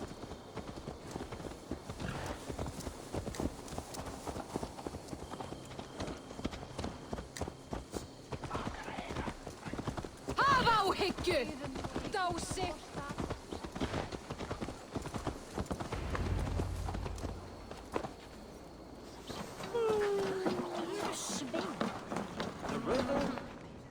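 Horse hooves clip-clop at a steady running gait in Assassin's Creed Valhalla, with an occasional whinny, game music and dialogue voices layered over the hoofbeats.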